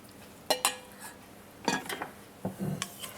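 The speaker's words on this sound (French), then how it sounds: "je vais rajouter donc les fruits confits avec leur marinade" Candied fruit and its whisky marinade are added to Christmas cake batter in a bowl, with a few clinks and scrapes of utensils against the dish and soft wet stirring, close and intermittent.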